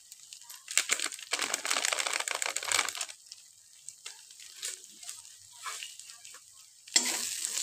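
A spatula stirs spice masala of cumin and coriander powder in a pan for egg korma. Close scraping strokes run over a steady frying sizzle, with a sharp clatter near the end and no voices.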